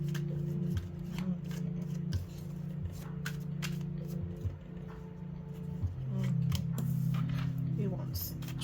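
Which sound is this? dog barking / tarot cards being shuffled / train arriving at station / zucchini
tarot cards being shuffled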